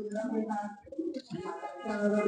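Lakkha pigeons, kept with a two-day-old baby, coo in a few low, throaty phrases close to the listener, with voices in the background.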